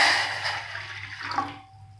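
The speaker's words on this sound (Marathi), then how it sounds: "त्याच्यामध्ये आपण पाणी घालणार आहोत" Water poured into a heated cooking pan, a short splashing pour close by that fades to quiet within two seconds, with no speech over it.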